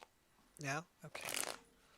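Tarot cards being shuffled by hand: a short papery riffle burst of about half a second, close and clear, preceded by a brief voiced sound and otherwise quiet.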